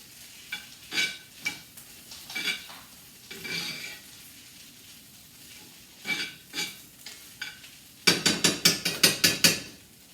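Fried rice is stirred and heated through in a pan, giving close scraping and clattering strokes in irregular bursts, ending in a quick run of louder rhythmic scrapes.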